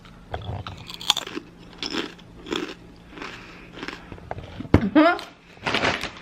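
Crunchy chips being bitten and chewed up close, a series of crisp crunches in irregular bursts with quiet gaps between, a few faint rustles.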